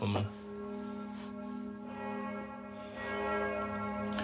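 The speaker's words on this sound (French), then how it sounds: "Ce sont les cloches de l'église catholique." Catholic church bells ring with a sustained, resonant tone that swells and fades across several strokes, while a voice speaks faintly underneath.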